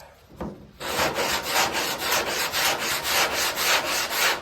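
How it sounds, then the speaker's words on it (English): 80-grit sandpaper rasps back and forth across car body work in steady rhythmic strokes, close and continuous after a brief quiet start. "Still going to stick with our 80 grit sandpaper."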